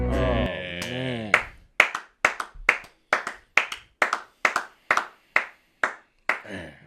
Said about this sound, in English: One more round of applause, man